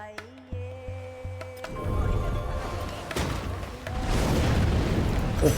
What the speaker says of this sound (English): Big explosion with minimal payout.